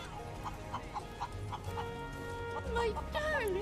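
Chickens cluck in short repeated bursts inside the video game Final Fantasy VII Rebirth, set against a steady ambient game soundtrack, with one call rising near the end.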